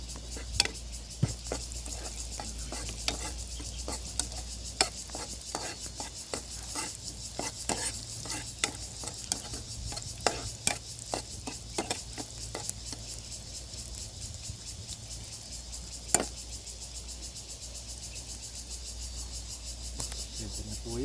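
Onion, garlic and ginger sautéing in a pan, with steady low sizzling under frequent sharp scraping clicks of a utensil stirring throughout, close by and with no voices.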